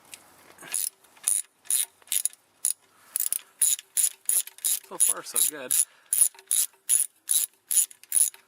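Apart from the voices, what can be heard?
ratchet removing transmission pan bolts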